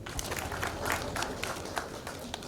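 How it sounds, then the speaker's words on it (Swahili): Applause from a crowd at a funeral, a dense patter of many hands clapping continuously at moderate volume. "tumpigie makofi."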